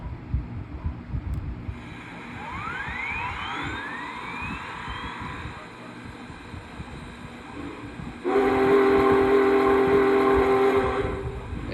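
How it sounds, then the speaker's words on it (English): An MTH RailKing Big Boy model steam locomotive's synthesized whistle sounds with rising tones over a steady electronic hum, then a louder sustained whistle blast takes over near the end. "There's the whistle"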